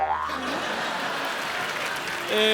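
Studio audience applause on a Hindi TV comedy show, a dense, steady wash of clapping filling the room for over two seconds, with brief tonal musical stings at the start and end.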